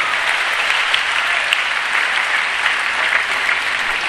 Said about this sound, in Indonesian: Show director, tepukan untuk saudara Zuraidi.